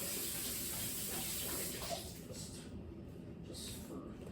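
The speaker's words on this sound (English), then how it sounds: "I should probably rinse it like that." Water rinsing a dirty Hampton Bay solar light post, a steady close gushing stream that softens and sputters toward the end, with faint talk beneath.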